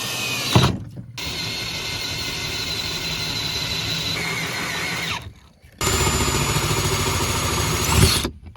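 Power drill running hard through well pump replacement work, a loud steady whine held for several seconds, cutting out briefly, then starting again at full speed with no talk over it.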